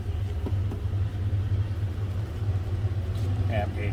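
A 1932 Ford Model 18 Roadster with its engine running after a slight choke, a steady low rumbling idle close by, with a faint short click near the end.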